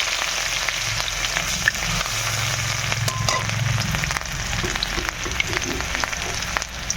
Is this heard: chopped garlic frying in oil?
yes